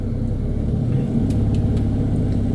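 A manual car's engine rumbles low and steady as it is gently accelerated at the clutch bite point, creeping forward on a slope, with no talking over it.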